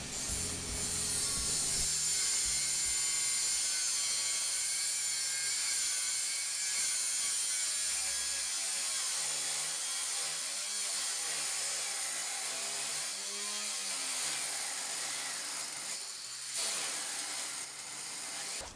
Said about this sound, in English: After a couple of inches, the grinder started to stall, and jamming the part.